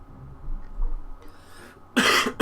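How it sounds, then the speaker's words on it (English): A person with a tickly cough gives one sharp, loud cough close to the microphone after a quiet stretch, cutting off abruptly. "I do have quite a tickly cough"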